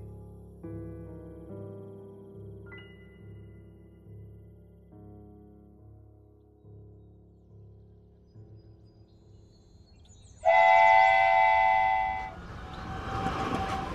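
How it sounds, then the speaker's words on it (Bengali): A single train rolls past in a Bengali horror audio story, a steady rhythmic rumble with a hum beneath, then a loud high horn blast near the end as it draws close. "দিনের একটা মাত্র ট্রেন একটু আগেই ঝমঝম তালে চলে গিয়েছে।"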